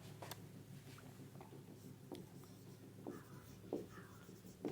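Pen on paper writes out physics notes on electric potential, producing faint, soft scratchy strokes and small taps in short bursts against a quiet room hum.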